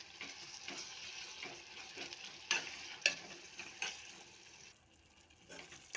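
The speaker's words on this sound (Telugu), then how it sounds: "ముందు వేసుకుని ఒకసారి మిక్స్ చేద్దాం" Ginger garlic paste being stirred into onions in a hot pan, with a steady soft sizzle and repeated scraping strokes, a few sharper clinks near the middle, quieting toward the end.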